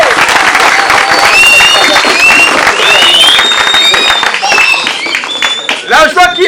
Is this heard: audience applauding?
yes